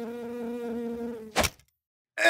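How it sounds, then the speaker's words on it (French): Small fruit fly buzzing in a radio studio, a steady close whine that keeps going for over a second, then stops, followed by a short rustle and silence. "Il y a une petite mouche à fruits en studio"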